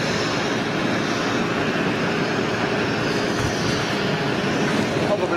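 A Boeing 747-400 jet airliner with CF6 engines roars steadily, a loud broadband rushing noise holding constant throughout with no clear talk.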